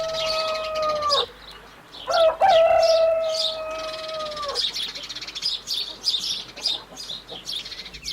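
A rooster crows loudly twice in long drawn-out calls, followed by softer scattered clucks and chirps from fowl nearby, with no talking.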